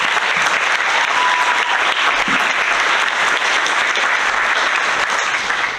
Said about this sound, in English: So one more big round of applause for local businesses.